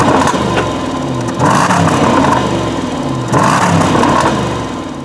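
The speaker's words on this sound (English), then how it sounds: "470 horsepower supercharged V8." A Jaguar XJ Supercharged with a 470-horsepower supercharged V8 revs loudly and close up, rising and falling through two strong throttle blips over a sustained engine drone.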